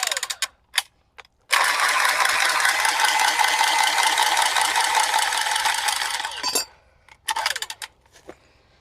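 A short length of pipe being cut for a main water valve repair in a house remodel, a steady rasping saw-like grind lasting about five seconds between a few sharp clicks and clinks, close and fairly loud with no talking.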